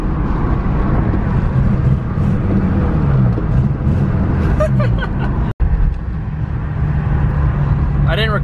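An old beater car with a manual transmission, engine running rough and a failing alternator, rumbles steadily from inside the fumey cabin, with faint voices now and then over the drone.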